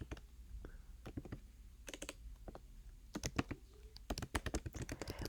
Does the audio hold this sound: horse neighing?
no